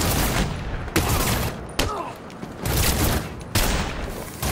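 Enemy gunfire in Batman: Arkham City comes as several sharp, loud bursts of shots separated by short gaps, close and dominant over faint background sound.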